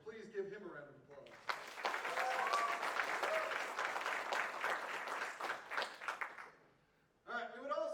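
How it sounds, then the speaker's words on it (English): A theater audience bursts into applause at a final cast show, a loud, dense wave of clapping that swells after a spoken introduction, then fades out before a voice resumes. "So please give him a round of applause."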